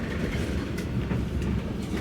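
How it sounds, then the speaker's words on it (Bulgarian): Several trains passing through a city, a steady, dense rumble with faint clacking, fairly close and continuous throughout, no voices. "Те са 4 влака."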